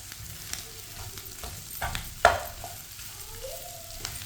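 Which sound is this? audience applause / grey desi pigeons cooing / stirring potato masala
stirring potato masala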